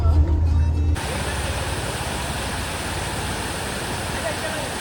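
A waterfall roars as a steady, loud, dense rush of falling water that starts abruptly after a brief opening moment and continues unbroken and close by.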